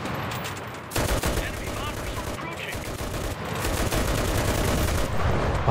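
In the video game Enlisted, a .50 caliber machine gun fires long rapid bursts, dense rattling gunfire that is close and loud, with a brief pause between strings.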